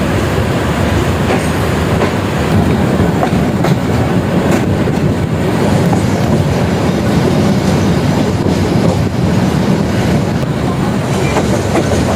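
A passenger train travels from Dhaka to Mymensingh, its loud, constant rumble and rattling wheel clatter filling the ride without a break and with no talk.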